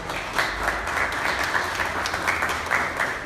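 Audience at a press conference for a sound-system DJ celebration in Hidalgo breaks into continuous applause, a dense, even patter of many hands clapping at moderate volume for a few seconds.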